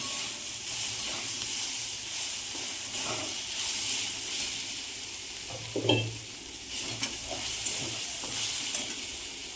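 Boiled potato filling for vada pav is sautéed in a little oil, giving a close, steady frying sizzle broken by repeated scraping stirs of a spoon against the pan, with one louder clatter partway through.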